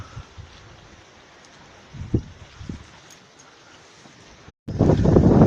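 Strong wind buffeting an Ironman tent at a cliff: soft gusty rushing with a few dull flaps and thumps of fabric, then a sudden loud blast of wind noise roaring against the microphone at the end.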